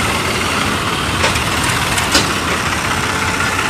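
A tractor engine idles loudly and steadily with a rough low rumble, heard outdoors at a farmers' protest, with a couple of brief sharper clicks and no clear talking.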